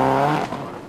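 A Subaru rally car screams along a gravel stage at Rally Australia 2006, its engine note loud and close at first, then dropping away as it fades with tyre noise.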